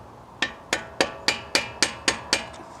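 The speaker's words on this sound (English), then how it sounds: "And I use a mallet just for that." Mallet tapping on a brake caliper during a Brembo front brake pad replacement on a Honda Civic Type R FK8, giving eight sharp evenly spaced knocks, close and clear, with no talk.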